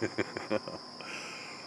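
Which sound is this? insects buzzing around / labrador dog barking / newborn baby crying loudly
insects buzzing around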